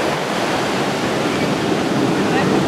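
Steady, loud roar of surf washing continuously at Boomer Beach sea lion rookery, with some wind noise and no clear breaks between waves.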